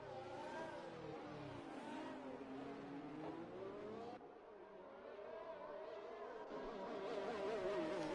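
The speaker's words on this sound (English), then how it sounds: "the 2 Mercedes are the first cars out of the garage" Two Mercedes Formula-style race cars pull out of the pit garage at Abu Dhabi in a racing video game, their engines droning steadily with rising, shifting pitch, joined by other engine notes and growing slightly louder toward the end.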